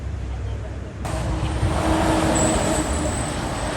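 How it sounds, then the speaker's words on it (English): A yellow fire truck driving past on a street, a rising engine rumble and tyre roar that swells as it nears, with a faint high whine, fairly close. "It's a yellow fire truck."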